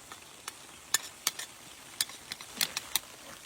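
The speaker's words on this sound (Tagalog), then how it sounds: "lagi po natin haluin yan para po magpantay yung pagkakaluto" Peanuts and garlic frying for adobong mani, stirred in the pan: scattered sharp scraping clicks and light crackles ring out in an irregular rhythm, with a quiet sizzle beneath and no voices.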